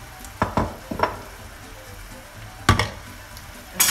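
A little oil frying in a pan while cooking mushroom risotto, with bursts of sizzling and the scrape of stirring coming in short, uneven spurts over a quiet background.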